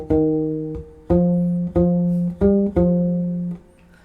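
A U-bass plays a short phrase of about six plucked, sustained low notes in an even rhythm, each ringing before the next, solo and close.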